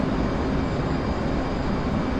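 Steady, loud jet engine roar from an aircraft cruising in a flight combat video game, a dense, unbroken rush with no talking.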